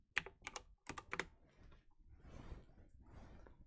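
A search is typed on a computer keyboard, with a quick run of loud, close key presses at the start followed by softer, scattered taps and rustling, and no voices.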